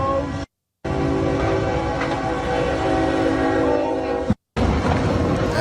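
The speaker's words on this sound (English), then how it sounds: "I bet they heard the train coming" A train passes close to the tracks, where a truck has stopped. It makes a loud, steady rumble with a horn-like tone, and the sound is cut by short breaks of silence.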